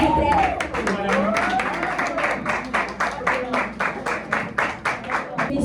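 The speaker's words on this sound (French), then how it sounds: "Je vous prie d'applaudir, s'il vous plaît" An audience at a graduation ceremony in Port-au-Prince claps as a speaker talks briefly over the start, settling into a loud, fairly rhythmic run of clapping.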